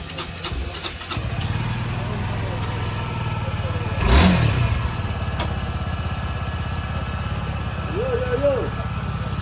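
A motorbike with a Mustang key fires up with a brief loud burst at mid-clip, then keeps up a steady rumbling idle over constant background noise, with voices nearby.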